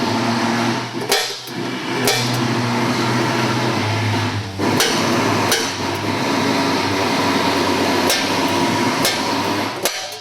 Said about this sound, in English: take a center punch and mark each spot so our drill